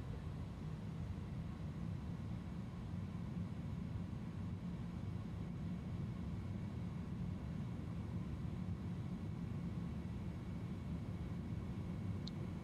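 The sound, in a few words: Airbus A310 engines at takeoff thrust in MSFS 2020 video game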